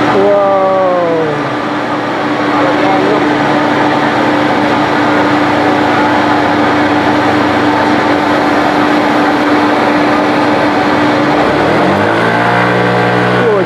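A Yamaha NMAX scooter with a CVT is revved hard to around 8000 RPM, a loud sustained engine drone with a steady whine that rises at the start and winds down near the end.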